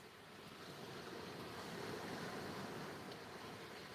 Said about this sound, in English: There's a few waves crashing on the beach. I love the sound of that.